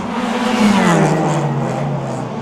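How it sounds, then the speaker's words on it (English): A race car roars past close to the track at the Bang Saen Grand Prix street circuit in Thailand, its engine note loud and steady, shifting pitch as it goes by near the braking zone. "those cars seem a lot faster when you're right next to the track, right at the start of the braking zone"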